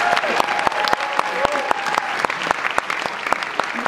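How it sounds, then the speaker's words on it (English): A folk festival audience claps warmly for a singer, a dense wash of hands with sharp individual claps popping out, while a few voices and whoops sound faintly beneath it. "Give her a big round of applause"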